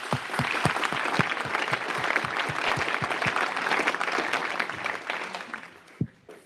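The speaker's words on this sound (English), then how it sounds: "One round of applause for our panel." A conference audience applauding a panel, a dense burst of clapping that holds steady and then fades out near the end.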